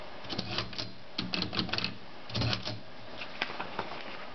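A 1935 Corona Standard typewriter is typed on at close range, giving irregular bursts of sharp mechanical key strikes with short pauses between clusters.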